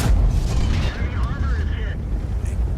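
An IS-5 heavy tank's cannon fires in a World of Tanks battle: a loud, deep boom that rolls into continuous low rumbling, with engine and battle noise underneath and brief higher whistling tones.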